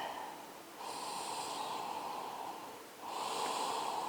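Heavy breathing during a vinyasa yoga practice, steady long breaths with a hissy rush rising and falling in two cycles, fairly close and unaccompanied by talk.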